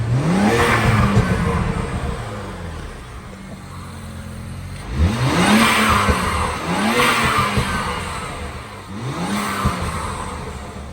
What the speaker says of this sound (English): here's some turbo noises